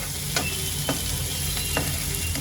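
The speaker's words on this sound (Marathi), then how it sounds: "आता कांद्याला चांगला मी फ्राय करून घेते" Onions fry in a pan with curry leaves and garlic, giving a steady close sizzle broken by a few sharp scrapes of stirring, for tendli sabzi.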